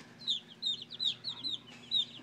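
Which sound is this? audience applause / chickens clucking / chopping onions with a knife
chickens clucking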